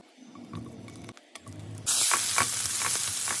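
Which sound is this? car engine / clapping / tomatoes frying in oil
tomatoes frying in oil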